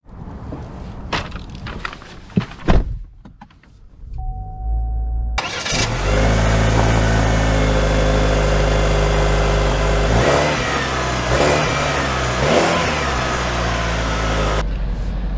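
A 2023 Cadillac XT4 crossover: a few clicks and thumps, a brief chime, then the engine cranks and catches, settling into a steady drone as the car pulls away, with a short burst of revving midway.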